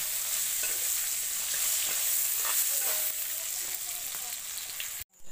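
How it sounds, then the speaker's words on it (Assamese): Potatoes seasoned with turmeric and salt sizzle in oil in a kadai used for cooking goat meat, a continuous close hiss with occasional stirring clicks, before a brief cut near the end. "আৰু এতিয়া মই আলুখিনি ভাজিম।"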